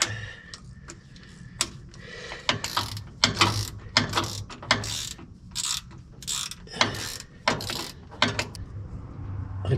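A ratchet and socket work cruddy, decades-old bolts on a D9G governor, giving close, loud bursts of rapid clicking strokes in an uneven rhythm, with short pauses between pulls.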